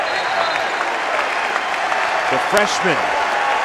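A basketball arena crowd at an ACC men's game between St. Francis (Brooklyn) and NC State applauds warmly for a freshman player, a steady roar of clapping under a commentator's voice.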